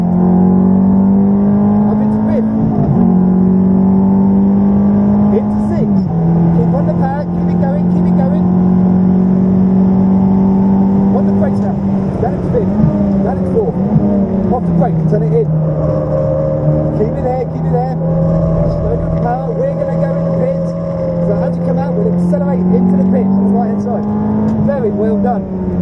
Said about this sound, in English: full throttle. Up into fourth.